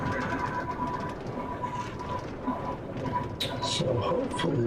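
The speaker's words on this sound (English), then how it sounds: "if you like train sounds, maybe this will help you go back to sleep" A train rumbles steadily along the rails with a sustained mechanical hum, while birds coo nearby and a few brighter squeaks and clatters rise near the end, heard up close.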